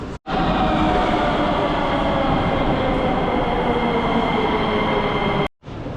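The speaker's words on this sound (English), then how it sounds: "It looks like it's 3 minutes before the train to the airport." Sofia airport train in Bulgaria, a steady loud rumble of a metro-style train in motion with faint wheel clatter, continuous for several seconds before cutting off briefly at the end.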